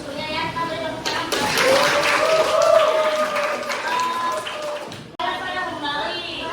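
A classroom full of students claps for a classmate, a dense, steady patter of hands lasting several seconds, with a teacher's voice talking over it.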